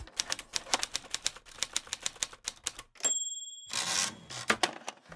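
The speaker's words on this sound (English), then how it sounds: "Typewriter. Bell ding." Rapid mechanical typewriter keystrokes clatter in an uneven rhythm, then a bright bell dings once, followed by a carriage return and more typing.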